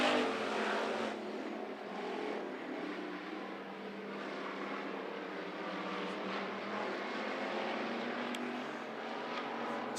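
Race cars roar side by side through turns three and four at Monarch Motor Speedway, a continuous loud engine drone with no break.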